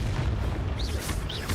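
A Confringo explosive spell goes off in the video game Hogwarts Legacy, a low rumbling blast over a steady dense bed of game noise, with faint chirping whistles rising above it.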